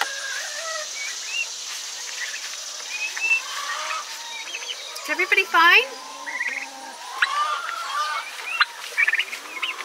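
Turkeys in a small coop give scattered chirps, yelps and clucks over a background of insect buzzing, and a person speaks briefly partway through.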